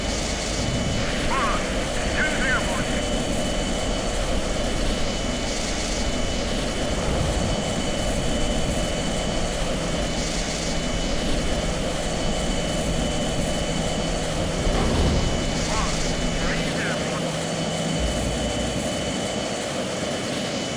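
A carrier-launched jet in a Strike Fighters flight game roars steadily at full power after the catapult shot, a loud continuous engine rumble and whine that fills the whole stretch, with a voice talking over it.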